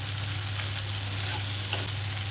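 Egg and okra (bhindi) fry together in a pan with a steady, close sizzle that holds at an even level throughout, with no voices.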